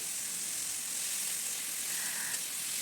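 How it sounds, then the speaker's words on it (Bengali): Chopped potatoes fry in a pan with turmeric and salt, giving a steady, close sizzling hiss that holds evenly throughout with no talk. "তাই আমি সব আলুগুলোকে প্রথমে একসাথে ভেজে নিচ্ছি"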